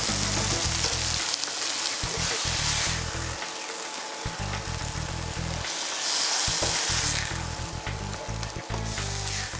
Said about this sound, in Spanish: ¿Cuánto churrasco le vas a poner al sartén?